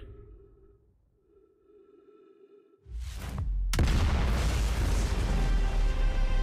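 Big bang explosion in Outer Wilds: a low hum and faint tones give way to a sudden swelling rumble, then a huge, loud roaring blast that holds steady to the end.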